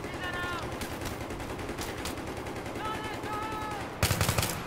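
Sustained rapid automatic fire from a heavy gun in the video game Battlefield 3, loud and continuous, with a sharper, denser burst near the end.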